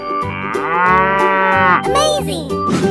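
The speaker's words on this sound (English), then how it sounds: "Good job. Cow." A cow moos in a single long, loud, drawn-out call with a rising and falling pitch, followed by a shorter second low from a cartoon farm animal in a children's paint-and-animals transformation game.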